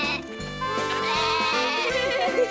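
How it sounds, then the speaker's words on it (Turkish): A goat bleats in a children's animated cartoon, a wavering voiced cry that rises and holds over soft background music, close and fairly loud. "Keçi."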